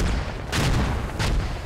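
Two heavy mortar explosions in the military shooter game Squad boom out about half a second apart, each a dense, rumbling burst with no talk.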